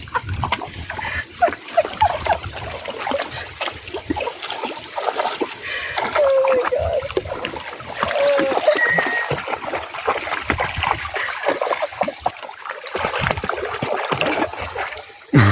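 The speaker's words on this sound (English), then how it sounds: "She's drinking water like this." A dog on a Portuguese homestead laps and splashes noisily at water up close, with continuous wet slurping and sloshing and a brief exclamation from a person.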